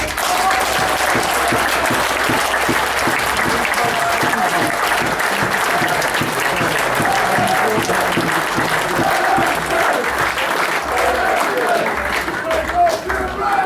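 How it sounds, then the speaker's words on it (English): Sustained applause from a crowd at a football club's end-of-season awards night, steady dense clapping that fills the room loudly for the whole stretch, with cheers and voices mixed faintly underneath. "you need a massive pat on the back and a massive round of applause for that"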